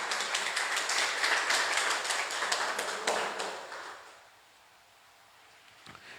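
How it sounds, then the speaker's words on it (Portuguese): A church congregation claps together during a worship service, a dense patter of hands that holds steady for about three seconds, then thins and fades to quiet near the end. "Dê uma salva de palmas bem forte para o Senhor Jesus"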